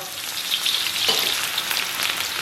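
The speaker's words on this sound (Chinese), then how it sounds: "油温微热，咱们下葱蒜干辣椒给它爆香" Scallion, garlic and dried chili hitting warm reused oil in a wok, heard as a loud, close, continuous sizzle with crackling spatter and a brief stir.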